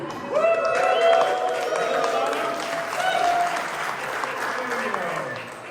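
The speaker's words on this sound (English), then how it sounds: "Can I get a big cheer?" A conference audience cheers and applauds for the next speaker at a LinkedIn personal branding event, with dense, sustained clapping and whoops filling the room at steady loudness throughout, and scattered voices calling out above it.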